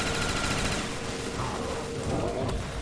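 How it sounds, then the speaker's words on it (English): Continuous loud gunfire from a zombies-mode shooter video game, a dense rattling barrage filling the whole stretch with no talk. "I'm laying as many bullets as I can"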